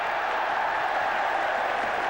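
Sustained applause rolls through a packed Old Trafford cricket ground at the 1981 England v Australia Ashes Test, many hands clapping in a broad, constant wash with faint crowd murmur beneath.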